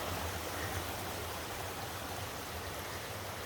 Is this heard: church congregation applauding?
no